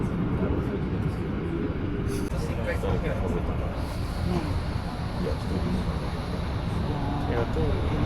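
Inside a moving train in Japan, on the route from Machida via Fujisawa to Kamakura, a continuous low rumble and hum fills the carriage, with voices talking over it.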